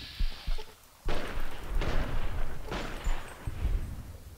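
Grenade blasts in Fallout: New Vegas, several broad booming explosions in quick succession with rumbling tails, loud and close, one after another with no talk.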